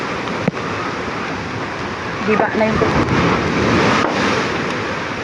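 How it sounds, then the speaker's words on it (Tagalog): Heavy typhoon surf rumbles and crashes steadily under strong wind noise, large waves reaching seaside houses, with a voice speaking briefly over the roar. "abot na yung mga kabahayan dito sa amin ang laki-laki ng alon yun"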